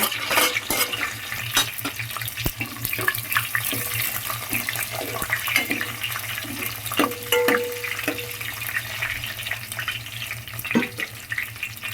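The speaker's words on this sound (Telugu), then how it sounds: "ఇవి వేయించుకున్న తర్వాత" Hot oil sizzles steadily as dried red chillies, garlic, cumin and tempering spices fry, with scattered sharp crackles and pops, close and continuous throughout.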